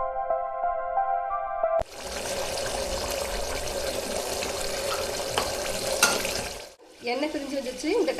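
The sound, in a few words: tamarind paste simmering in oil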